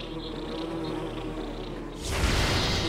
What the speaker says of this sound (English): Wasps are dumb.